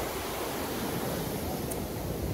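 Sea surf washing onto a beach where people are swimming, a steady broadband wash of breaking waves heard close and continuous, with no talk over it.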